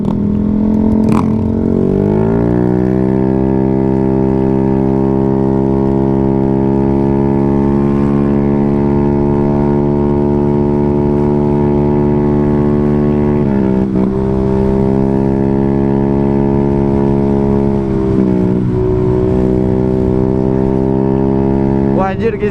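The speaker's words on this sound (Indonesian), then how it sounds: "Oh begini ya rasanya pakai knalpot racing." Automatic scooter fitted with an SC Project full-system racing exhaust, loud and close, revving into a sustained high drone with a couple of throttle dips and rises, people talking faintly under it.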